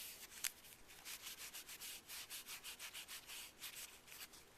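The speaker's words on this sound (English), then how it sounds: "you gently apply pressure as you scrub the metal contacts to remove that dirt and grime" Cleaning paste being scrubbed onto the metal contacts of an N64 game cartridge, a close, steady back-and-forth rubbing with an even rhythm of about three strokes per second, plus one brief sharper scrape near the start.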